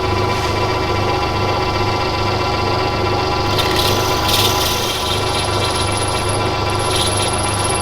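A 4.5 mm drill bit boring a marked-depth hole for a hydraulic system, a steady loud grinding whir with rasping texture that holds constant throughout, with no one speaking.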